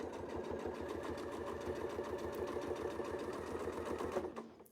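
A sewing machine runs steadily, stitching fabric along a quilting template with a Westalee Design ruler, a continuous rapid hum that stops abruptly near the end; no talking.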